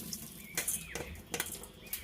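Water trickling and dripping from washed wheat grains in a basket, soft intermittent splashes and drips close by, faint and uneven.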